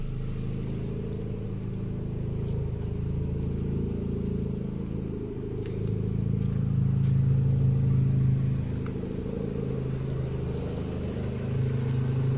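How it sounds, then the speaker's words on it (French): Renault Clio 2 with a 1.6 16V K4M engine and a history of unstable idle, now idling at a steady low rumble, recorded close by with no talk. "Vous pouvez voir le ralenti."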